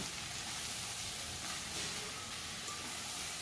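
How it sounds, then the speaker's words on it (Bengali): Chopped bottle gourd hitting hot oil with cumin in a pan, giving a steady, even sizzle and hiss that holds constant and close throughout, with no talking. "এখন আমি লাউগুলোকে দিয়ে দিচ্ছি। তেলের সাথে লাউটা খুব ভালো করে নেড়ে চেড়ে মিশিয়ে নেব।"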